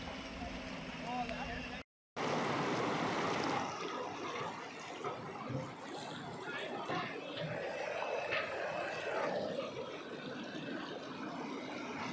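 Continuous rushing water leaking through an eroding earthen embankment of the Mangala check dam at Kunigal fills the background, broadband and steady, while someone talks over it outdoors.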